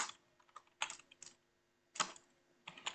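Bursts of typing on a computer keyboard as a command is entered in a terminal, clusters of quick clicky keystrokes separated by short pauses, close and fairly quiet, with no talking.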